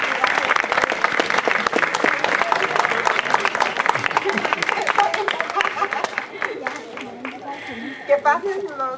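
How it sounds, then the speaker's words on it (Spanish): Audience at a contemporary painting competition claps warmly, a dense burst of applause mixed with crowd chatter that thins into scattered claps and murmuring voices. "un aplauso nuevamente."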